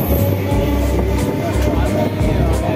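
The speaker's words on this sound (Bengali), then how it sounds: "এই যে দাঁড়িয়ে আছে বারুইপুর লোকাল।" A Baruipur local train stands at a platform in Sealdah station, giving a loud, steady low rumble with a constant station hum throughout.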